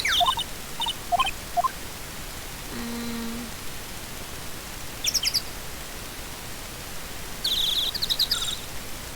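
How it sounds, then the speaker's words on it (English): Chirping birdsong from the Phoenix Wright Ace Attorney video game, short bright tweeting bursts repeating at intervals over a soft background hiss, with a brief low electronic tone in the middle. "At least we hear wonderful bird noises."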